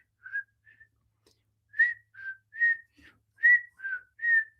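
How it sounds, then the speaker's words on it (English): A person whistles a short, light tune of about eight clear notes in a quiet room while applying a glassy opal highlighter, the notes close and separated by brief pauses. "And I typically do a little whistle as I do it."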